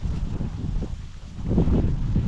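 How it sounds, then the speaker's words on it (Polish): Steady, blustery wind roars low and continuously through a garden in late autumn, gusting stronger toward the end, with no voices. "w ogrodzie wieje dosyć silny wiatr"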